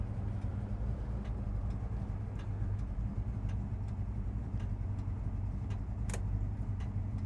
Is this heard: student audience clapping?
no